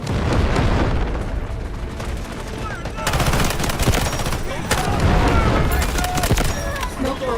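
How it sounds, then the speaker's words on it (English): A triple blaster fires in the video game Delta Force amid a dense barrage of heavy shots and booming impacts, loud and continuous, with voices talking over the battle. "Triple blaster charges up!"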